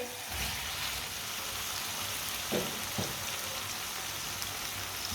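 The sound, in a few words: boiled potatoes added to hot tempering, sizzling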